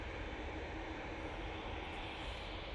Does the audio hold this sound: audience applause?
no